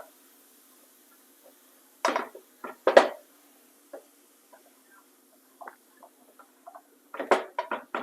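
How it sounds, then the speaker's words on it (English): Canned black-eyed peas tumbling into a pan for Jamaican jerk mushroom, a few soft wet patters and clatters in short bursts, with quiet pauses between. "Now I'm going to add some black eyed peas. And I use the one from the can."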